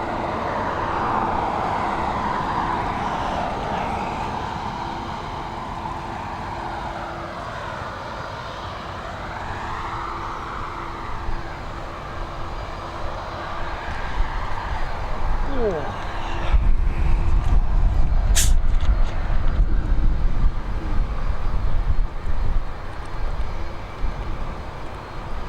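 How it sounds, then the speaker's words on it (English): Airbus A320neo departing Dublin Airport from runway 10R for London Heathrow: a loud jet engine roar rises and sweeps in pitch, swelling near the end, with a voice talking over it. "next up, we have an Airbus A320neo. This time, she is heading to London Heathrow."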